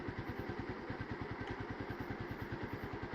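A motorcycle engine fitted into an electric auto-rickshaw idles nearby with a rapid, even chugging pulse, the steady mechanical clatter holding a constant rhythm throughout.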